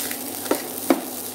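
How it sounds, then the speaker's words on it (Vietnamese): Dried pineapple fish being stir-fried with rice for fried rice with green chili, heard as two short spatula scrapes close by over a faint steady sizzle. "Mình xào cá khô vậy là mọi người biết sao không?"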